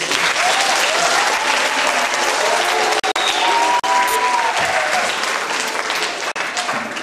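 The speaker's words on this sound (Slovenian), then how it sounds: "mislim, da se še enkrat zasluži aplavz" Sustained audience applause at a Slovenian public library day event, dense and steady for several seconds with a few brief dropouts, loud and close.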